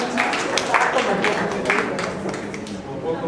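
Audience applause at an Italian national conference on legalizing prostitution, welcoming politician Rita Bernardini; dense sustained clapping from a crowd with scattered louder claps, steady throughout, with faint murmuring voices underneath.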